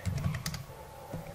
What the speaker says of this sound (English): I am typing line command